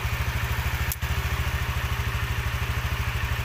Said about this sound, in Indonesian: ini motornya udah hidup